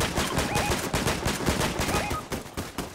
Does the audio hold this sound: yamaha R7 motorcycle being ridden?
no